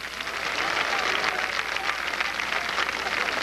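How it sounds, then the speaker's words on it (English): A stadium crowd at Thunder Road race track in 1991 applauds a driver, a dense, steady wash of clapping from many hands heard at a distance without breaks. "Let's have a nice round of applause for Brian Campbell, number 83."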